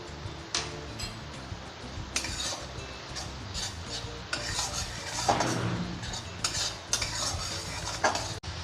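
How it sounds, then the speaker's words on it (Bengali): A utensil stirs a mustard chicken mixture in a pan, with repeated scraping and clinking against the metal over a soft sizzle, close and continuous throughout. "ভালো করে মিক্স করে নেব।"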